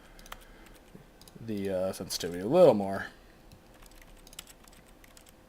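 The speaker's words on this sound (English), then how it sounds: "I do love how it's like keyboard presses when you go through it" Soft, rapid keyboard key presses tick steadily in the background of The Stanley Parable, faint and continuous while someone speaks briefly over them.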